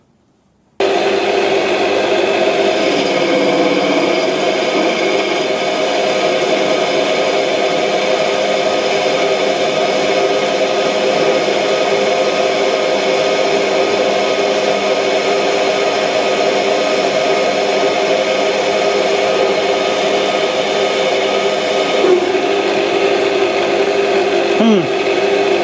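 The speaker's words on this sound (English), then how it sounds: "Although for my lathe that was probably a significant cut." A metal lathe with a quick-change tool post makes a sustained cut, giving a loud, continuous whirring and grinding drone. It starts abruptly and holds steady to the end, with a brief squeal near the finish.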